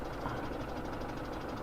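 Tractor engine in Farming Simulator 17, a steady low knocking drone at moderate level with no pauses and no one talking over it.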